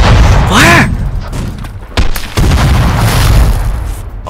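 Pirate ship cannon fire in The Last Leviathan video game, a loud booming blast followed by further thuds and rumbling over a noisy battle, with a voice speaking briefly.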